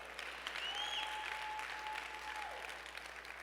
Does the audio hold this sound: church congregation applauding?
yes